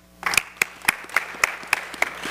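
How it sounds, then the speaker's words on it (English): Audience applause at a panel discussion on race bias, sparse and fairly close, with distinct individual claps spaced in a loose rhythm rather than a dense ovation. "And while you're applauding"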